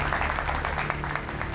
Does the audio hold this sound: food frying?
no